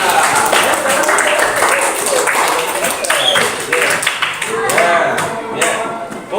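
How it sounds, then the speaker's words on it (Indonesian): A group claps for a team of presenters in a classroom or meeting room, a busy mix of many hands at close range with scattered voices underneath throughout. "tepuk tangan untuk kelompok 2"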